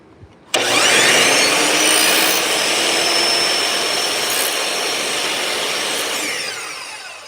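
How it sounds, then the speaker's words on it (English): A power saw bites into a trim piece with a sudden loud whir, holding a bright continuous cutting roar for several seconds that gradually eases off, close and alone with no talk. "Now I gotta drop the saw down so that it just barely hits 1/4 of an inch tall"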